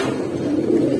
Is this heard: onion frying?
no